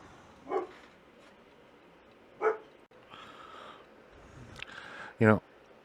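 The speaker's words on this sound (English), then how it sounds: "We had a delivery come in and set the dogs off." Dogs barking indoors at a delivery, a few separate sharp barks spaced out, with a louder cluster near the end, fairly close over a quiet room.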